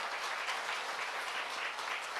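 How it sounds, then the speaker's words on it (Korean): Dense, sustained applause from an audience at a 2022 Jeju Forum culture and arts session, an even wash of many hands clapping with no talk over it. "여러분들 좀 힘내시라고 큰 박수 한번 보내주시겠습니까?"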